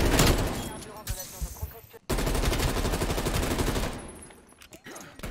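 Rapid automatic gunfire in the shooter game Call of Duty: Black Ops Cold War, dense loud bursts that drop out for a moment and then resume with a sustained rattle.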